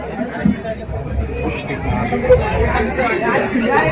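Lively crowd at a Bhim Jayanti celebration in Satpur, with dense chatter and voices merging into a steady babble that grows slightly louder toward the end.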